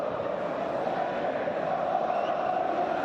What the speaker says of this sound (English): And listen to the crowd. It's been a while since we've heard the Allianz Stadium sound like this.